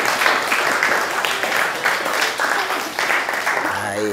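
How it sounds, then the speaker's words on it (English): An audience claps and cheers in a dense, steady burst of applause lasting a few seconds. "Let's clap for her."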